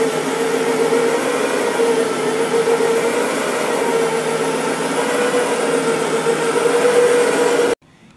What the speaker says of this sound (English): You can use our Brush Pro for dry soil removal. It's got two counter-rotating brushes